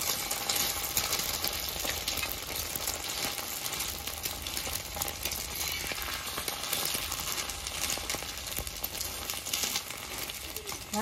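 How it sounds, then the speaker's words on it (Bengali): Beaten egg frying on a hot tawa, a soft continuous sizzle with faint scraping and crackle, fairly quiet and steady throughout. "গোলানো ডিমটা ঢেলে দিয়েছি, ডিমের ওপরে এবার ভাজা রুটিটা দিয়ে দেবো"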